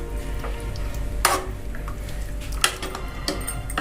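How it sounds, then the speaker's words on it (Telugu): A ladle stirs Hyderabadi chicken haleem in a pot, giving close scraping strokes with a few sharper knocks against the metal over a low bubbling background. "దీన్ని గరిటెతో బాగా కలవబెట్టుకొని మూత వేసేసి ఒక 5 నిమిషాలు ఉడకనియాలి చికెన్ని"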